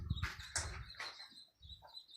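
Sparrows perched on a house chirp in short, faint bursts, a few quick calls scattered over quiet background noise.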